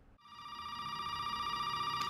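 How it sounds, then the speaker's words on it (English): A telephone ringing in the Resident Evil 7 video game: after a soft click, a single steady electronic ring tone sounds close and clear, holding unbroken throughout. "Now when you pick up the basement key, the phone rings again."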